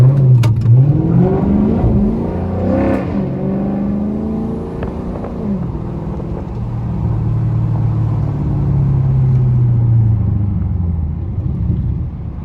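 A rebuilt Chrysler 300 SRT8 with the 392 engine revs hard and loud while driving, with a rising roar followed by a steady deep rumble as it cruises.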